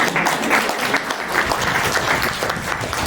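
An audience at a museum's special exhibition opening claps steadily for its members, a loud, dense patter of many hands close by, continuous for about three seconds.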